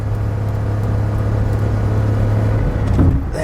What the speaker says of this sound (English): as you can tell, it makes a lot of noise without getting a lot of result